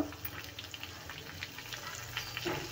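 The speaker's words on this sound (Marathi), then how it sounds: "आता याला छान परतून घेऊया। आणि घालूया हिंग" Garlic sautéing in oil in a pan as asafoetida goes in, a steady close crackling sizzle with faint stirring, running evenly throughout.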